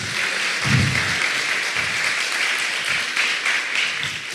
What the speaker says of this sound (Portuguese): Você pode aplaudir ao Senhor por essa passagem maravilhosa